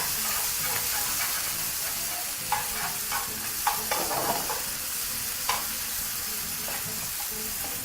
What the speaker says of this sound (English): we're just gonna saute that just until the spinach starts to wilt